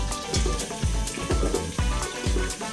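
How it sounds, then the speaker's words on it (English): Sliced onions and yam frying in hot palm oil, a steady crackling sizzle with soft rhythmic bubbling pulses, close and fairly loud, with no voices. "we allow this palm oil to heat up a bit and we add in our sliced onions, then our well-washed yam"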